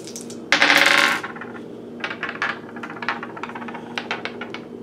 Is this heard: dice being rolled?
yes